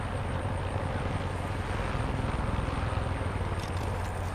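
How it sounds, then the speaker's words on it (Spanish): In the video game Far Cry 5, a helicopter flies nearby with a continuous, loud rotor thump and engine drone that holds steady throughout. "¿Hay un helicóptero o algo?"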